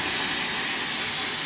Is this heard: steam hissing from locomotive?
yes